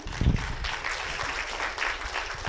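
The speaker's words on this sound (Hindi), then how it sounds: "ज़ोरदार तालियाँ।" Hall audience at a Ganeshotsav honour ceremony in Bhopal breaking into loud applause, a dense, steady wash of many hands clapping throughout, with no talk over it.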